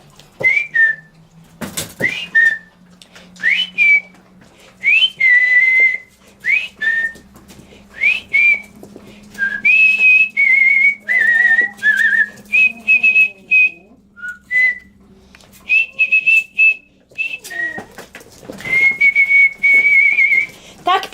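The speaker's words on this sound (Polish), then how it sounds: "Dla mnie do piesków to jest gwiżdżący sygnał, bo ja na pieski też gwiżdżę." Someone whistles a series of short, high notes and longer held tones in an irregular rhythm, with quiet background noise between phrases.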